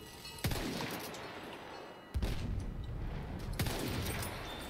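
Gunfire in the Battlefield 1 video game, with three sharp distant-sounding shots spaced about two seconds apart over a steady battlefield rumble and wind-like background noise.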